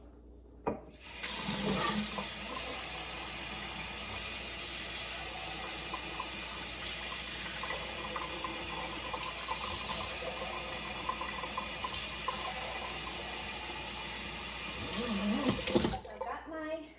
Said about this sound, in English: I'm just gonna fill them up with water halfway